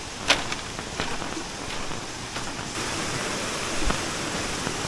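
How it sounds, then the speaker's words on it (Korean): Constant broadband rushing of a waterfall fills the clip, loud and steady, with a few faint clicks and bumps nearby, on a jungle trek in Chiang Rai, Thailand. "폭포에 왔습니다."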